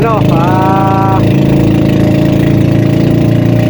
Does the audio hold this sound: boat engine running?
yes